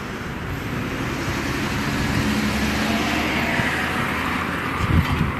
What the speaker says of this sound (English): Okay, I didn't plan on this traffic.